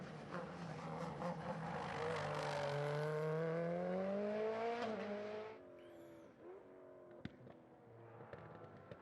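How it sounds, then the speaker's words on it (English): McLaren Senna supercar driven hard in a hill climb race: a loud, close engine rising in pitch under heavy acceleration, then a sharp drop as it passes and recedes, with faint crackles afterward. "Speed pushing hard. Tony Kanaan in the McLaren Senna."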